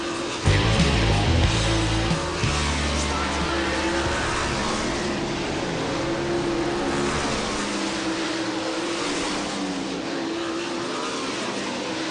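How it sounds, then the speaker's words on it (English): World of Outlaws sprint cars running hot laps at River Cities Speedway, a dense continuous engine roar from a pack of cars, loud and sustained with a brief nearer swell at the start. "4th of 5 race-ready hot lap sessions for the World of Outlaws NOS Energy Drink Sprint Car Series"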